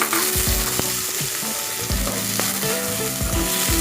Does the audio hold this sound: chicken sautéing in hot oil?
yes